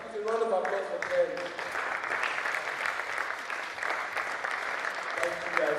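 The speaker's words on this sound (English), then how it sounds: "Yes, please, a round of applause for Ken." An audience at a digital training session applauds, a dense, steady wash of clapping from many hands that continues for several seconds, with a voice speaking over it near the start and end.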